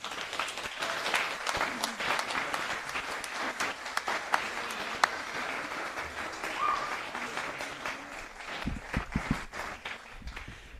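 At an Australia Day awards and citizenship ceremony, an audience claps steadily in a broad, sustained round of applause that thins out slightly near the end as scattered footsteps and movement come through.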